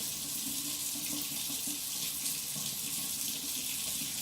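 Cream is poured into a West Bend Cocoa Grande hot beverage maker in a steady, continuous stream of liquid that runs unbroken and fairly loud for the whole stretch, with no talking.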